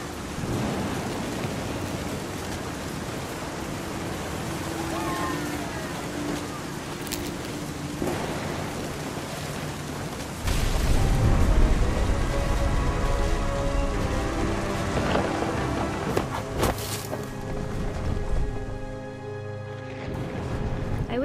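A storm with steady rain hissing throughout and a heavy, rumbling roll of thunder swelling up about halfway through, then lingering beneath the continuing downpour.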